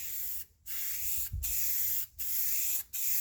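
Spray gun lightly dusting paint onto the quarter panel of a 1955 Dodge, heard as steady, loud hissing bursts broken by three short pauses, with no talking.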